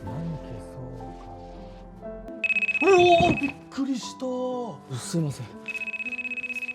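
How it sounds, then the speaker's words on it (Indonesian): A mobile phone rings with a repeating electronic tone in two bursts, while a voice speaks over and between the rings. "Tiba-tiba handphone Takeru Sato berdering dan mengejutkan si iblis."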